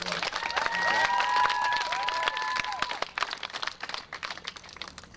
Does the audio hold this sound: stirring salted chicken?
no